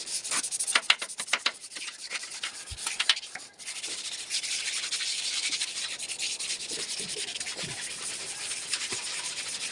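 Wet sanding of body filler on a curved pipe with 240 grit sandpaper and soapy water, a quick scratchy back-and-forth rubbing in short strokes that settles into steadier continuous sanding, close up with no talk.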